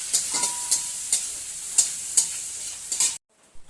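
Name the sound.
briefly frying raisins in a pan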